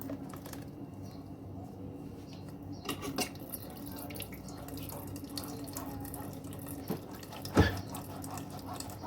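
Homemade orange and grapefruit juice, blended in a chopper, is strained into a container: a steady wet trickle and splashing, with faint drips and a brief louder clink or splash near the end.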